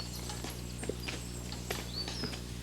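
Dray horses hauling timber along old estate pathways give a few hoof clip-clops, quiet and set against a steady low background hum with faint birdsong.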